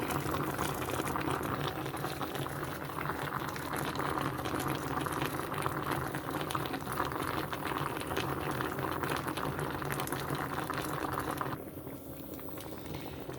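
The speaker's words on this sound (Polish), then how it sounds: "No i jak widać pięknie się smaży. Gruszka puszcza e, syrop, sok." Apricot and pear jam bubbles and sizzles in a pan on the stove, a dense, steady crackling simmer that continues for a while and drops slightly in level near the end, with no speech.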